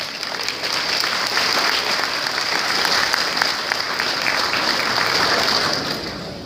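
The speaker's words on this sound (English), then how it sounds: "But we should clap." An audience of Texas Republican delegates applauds steadily at a breakfast caucus, a dense, even wash of many hands clapping that lasts the whole stretch with no voices above it.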